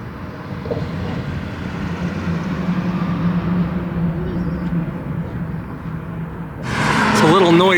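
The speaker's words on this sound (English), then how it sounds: "It's a little noisy up here on the roadway" Steady road traffic rumbles past on a busy bridge roadway at Twin Falls, Idaho, a continuous engine drone with a louder vehicle rushing by near the end.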